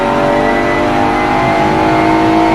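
A car engine revs hard and steady, a loud, buzzing four-cylinder drone held throughout with no talk.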